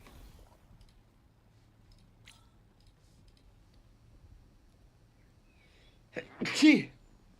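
One sharp human sneeze bursts out near the end after several seconds of near-silence with faint ticking, close and loud during a live game stream.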